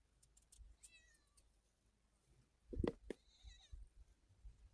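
A cat meowing outdoors near a cornfield, a few faint meows early, then a louder, closer meow call with a sharp knock and rustling around it.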